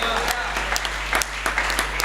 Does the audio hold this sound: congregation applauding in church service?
yes